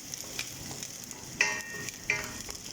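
Onion and garlic fry in a pan with a steady soft sizzle, a few louder spits and stirring scrapes standing out over the continuous crackle.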